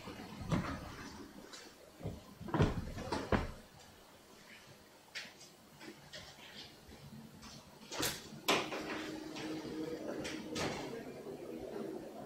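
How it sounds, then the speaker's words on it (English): A door is opened, with a series of knocks, clunks and sliding scrapes spread across several seconds, some sharp and close, amid faint background noise. "let me open the door so you can hear this."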